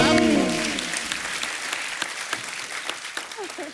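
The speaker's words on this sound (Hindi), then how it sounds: "जोरदार तालियां होनी चाहिए" An audience breaks into loud applause, clapping that starts strong and gradually thins out, with a brief voice at the start.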